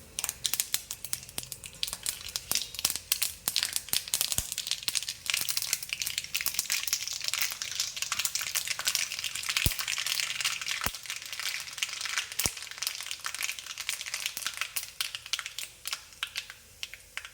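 Mustard seeds pop and crackle in hot oil while tempering for a bitter gourd (pavakka) theeyal curry: dense, rapid, close-up snapping that runs steadily throughout with no voices.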